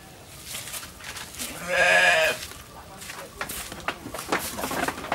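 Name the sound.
goat bleating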